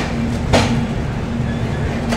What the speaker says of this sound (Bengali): লখনৌ থেকে তো ছেড়ে দিল ট্রেনটা এবার